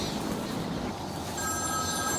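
A telephone rings in a Batman video game, a steady electronic bell tone rising over a dense, noisy ambient background and holding through the second half.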